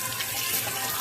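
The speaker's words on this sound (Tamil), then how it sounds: "நல்லா கையை கழுவு." Water runs from a tap as hands are washed, a steady close hiss of flowing water filling the short moment with no speech.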